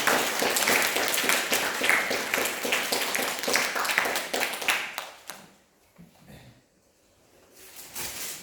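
Congregation clapping together at a Buddhist dharma service, loud dense applause for about five seconds that breaks off into near silence, followed by a brief rustle of movement.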